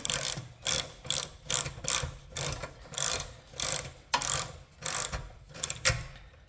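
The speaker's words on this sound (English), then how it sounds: "Tighten this back up a little." A ratchet clicks in repeated short bursts, about a dozen strokes in a steady rhythm, while a part on a Predator 6.6 HP 224cc go-kart engine is tightened, close and crisp with no talk.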